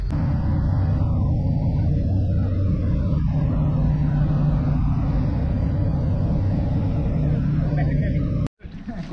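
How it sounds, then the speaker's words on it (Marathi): Steady low engine rumble of a vehicle heading out on a Shrimant Raigad darshan trip, a continuous drone filling the clip with faint voices in the cabin, cutting out briefly near the end. "अशा पद्धतीने आमची गाडी निघलेली आहे"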